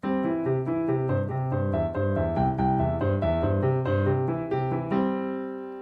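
Piano plays flowing broken triads in contrary motion in a steady even rhythm, notes rising and falling together, clear and close with no voices.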